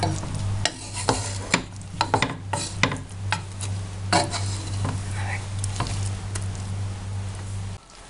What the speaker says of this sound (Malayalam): ഇനി നമുക്ക് കപ്പ ഇളക്കാം.